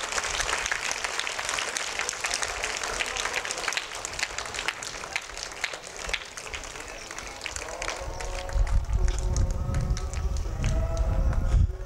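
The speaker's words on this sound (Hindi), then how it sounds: "ज़ोरदार तालियों से स्वागत।" A school gathering of children claps steadily and loudly to welcome a speaker onto the stage, with uneven clapping throughout and a rougher, fuller burst near the end.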